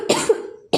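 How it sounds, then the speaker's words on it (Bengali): A dry, tickly cough from someone with a cold: a sharp close burst that trails off, then the start of a second cough, with no talking. "আমার কিন্তু খুসখুস করে একটা কাশি হচ্ছে"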